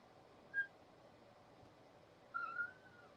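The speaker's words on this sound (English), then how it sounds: "I hear a little kitten crying to get in this room" Two faint, high-pitched kitten meows, a short one followed by a longer drawn-out cry, with quiet background hiss between.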